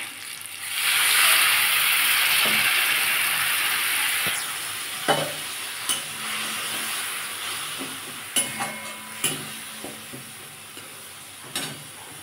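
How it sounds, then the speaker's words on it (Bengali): A splash of water hitting dry ground cumin, chili powder and turmeric frying in a pan bursts into a loud hissing sizzle that fades, followed by a softer simmer and repeated clinks and scrapes of stirring, close up. "আমি একটু সামান্য জল দেবো, কারণ তো শুকনো মশলা।"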